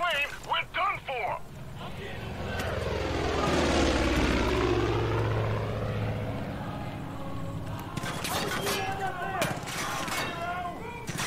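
A propeller plane roars overhead in the video game Far Cry 5, swelling to a loud pass and fading, with gunfire bursts and a voice near the start and end.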